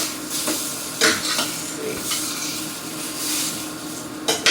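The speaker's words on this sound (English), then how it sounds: "I'm going to go ahead and flip my fish over" A cod fillet frying in a pan with coconut milk gives a steady loud sizzle, broken by a few clanks and scrapes of a utensil as the fish is turned.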